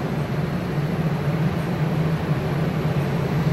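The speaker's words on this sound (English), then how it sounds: "I'm gonna get on this train that's sponsored by White Claw." Steady low rumble of a DART light-rail train at the Dallas–Fort Worth airport station, a continuous loud drone with a humming low tone throughout and no talking.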